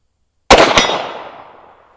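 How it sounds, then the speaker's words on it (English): A single loud rifle shot fired close by, a rifle fitted with a Primary Arms Advanced Micro Dot sight, cracks sharply after a moment of silence and then rings out in a long, fading outdoor echo. "Shoot one more here."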